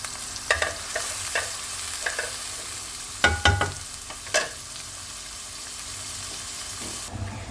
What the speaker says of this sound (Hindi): ऑयल गर्म हो गया, अब हम इसमें प्याज ऐड कर देंगे।